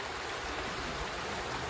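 Stream water flowing toward Bheemana Halla falls near Apsarakonda, Honnavar, a steady broadband rush with no breaks, moderately loud and close, with no voices.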